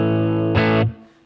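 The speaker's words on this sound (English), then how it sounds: "you'll hear, because of the humbuckers and the Les Paul, you'll start to get a bit of breakup already" A Les Paul with both humbuckers on plays through a Marshall DSL1CR 1-watt amp turned up to mild breakup, a sustained distorted chord with a brief brighter strum before it decays and fades out.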